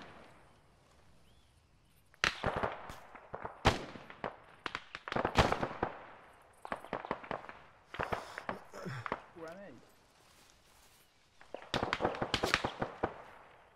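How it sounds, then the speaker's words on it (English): Distant gunshots in the military video game Arma 3, a scattered series of sharp cracks and pops at irregular intervals, fairly faint and far off, with a quiet gap between bursts. "we're also hearing shots southeast of our location"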